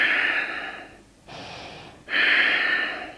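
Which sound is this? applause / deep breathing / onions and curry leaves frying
deep breathing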